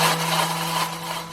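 Peri peri chicken marinade being mixed with an electric blender, a steady buzzing motor whir with a low constant hum, close and moderately loud, heard alone.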